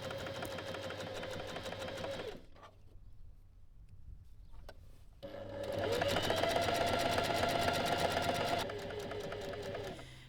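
A sewing machine stitches a side seam around pants pockets in two runs, humming steadily, pausing briefly for a few quiet clicks, then resuming faster and louder before slowing.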